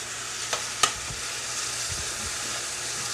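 Vidalia onions fry in about a quarter cup of oil, a steady, even sizzle with two quick utensil clicks early on, then an unbroken hiss to the end.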